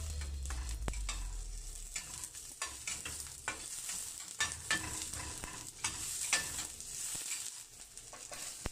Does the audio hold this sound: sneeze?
no